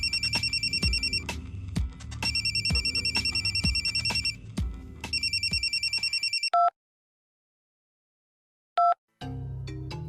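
A mobile phone ringtone plays loudly and close in repeated electronic bursts for several seconds, then cuts off, followed by a couple of short isolated beeps and a low rumble.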